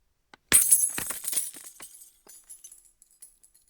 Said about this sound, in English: Dropping your keys down a huge well with lots of glass at the bottom.